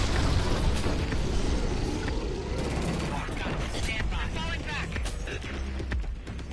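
A grenade explodes in the first-person shooter game Killzone: Shadow Fall, a loud, heavy boom and rumble that fills the clip, with gunfire and battle noise crackling around it.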